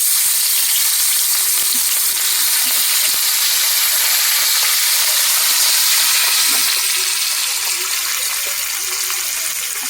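Onion sizzles and fries in hot oil in a home kitchen as the base for koi fish curry, a loud, continuous hissing crackle that holds steady with an occasional stir.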